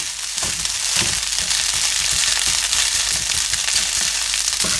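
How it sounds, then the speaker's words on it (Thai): Rice being pressed apart and stir-fried with Chinese sausage in a hot pan: a constant loud sizzle broken by repeated scraping, crunching strokes in an uneven rhythm. "พยายามบี้ข้าวให้แตกออกจากกันนะคะเพื่อนๆ"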